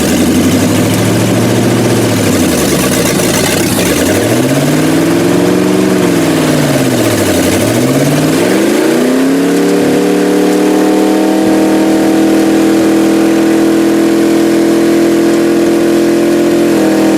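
A car engine in a shop is given more throttle, its pitch swooping up and down in a few revs before holding at a higher, steady hum; loud, close and continuous, with no talking.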